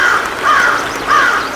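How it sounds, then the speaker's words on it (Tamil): A crow caws twice, loud and close: two harsh, rasping calls with a short gap between them. "காகம் தான். சரியா சொன்னீங்க."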